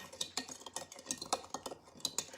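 Sugar rattles and bounces against the bottom of a jar in a quick run of light, gritty taps and clatters, near and fairly soft, with no voices.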